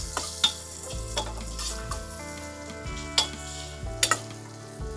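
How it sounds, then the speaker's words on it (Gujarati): Cumin and spices sizzle in hot oil for the tempering of a Gujarati potato curry, a steady close crackle with several louder stirring clinks and spatters at irregular moments. "2 થી 3 મિનિટ આપણે આવી રીતના તેલમાં રહેવા દેવાના છે, એટલે વઘાર બધો સરસ આમાં બેસી જાય"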